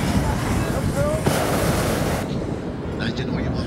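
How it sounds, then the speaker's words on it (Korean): Strong wind buffets the microphone at a hot air balloon field, a loud continuous roar that eases slightly toward the end, with a faint voice beneath. "시간이 갈수록 바람은 사그러지기는커녕 더욱 거세게 붑니다."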